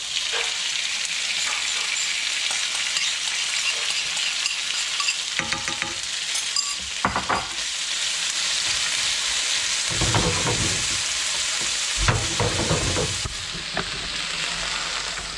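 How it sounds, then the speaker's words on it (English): Steady loud sizzling of squid and onion frying in a hot pan, with occasional clinks and stirring scrapes breaking through the hiss. "Sizzles means it's hot enough."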